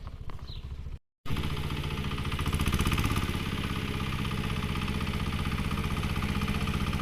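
A Kentavr MB1010DE walk-behind tractor engine runs close by in a potato field, with a steady throbbing, fast-pulsing drone after a brief cut, loud and continuous with no talk over it.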